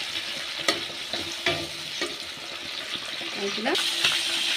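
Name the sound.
cumin, bay leaf, tomato and chilli stirred while frying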